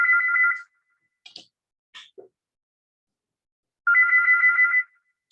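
Mobile phone ringtone goes off in a programming class, a bright electronic melody in two loud bursts with a few short clicks and beeps between them and no talk.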